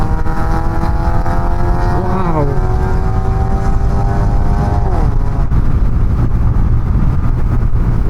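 A Yamaha Y16ZR motorcycle engine revs loudly and close, rising and falling twice in pitch over a constant roar.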